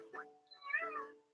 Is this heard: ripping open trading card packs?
no